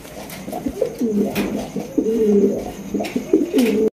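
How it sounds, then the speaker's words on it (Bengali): Several Rajgola pigeons coo close by in low, rolling, repeated calls, overlapping one another, with faint rustling in the background. "এখানে রয়েছে আরো একটা রাজগোল্লা কবুতর"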